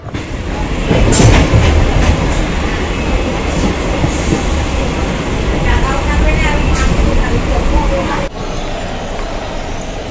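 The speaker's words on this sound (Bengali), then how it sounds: "আমার ট্রেন আবার ওইখানে চলে এসেছে" A passenger train runs steadily on the rails near Bauria, giving a loud continuous rumble with some clattering and faint brake squeals. It holds the same level for about ten seconds, and brief background voices come through.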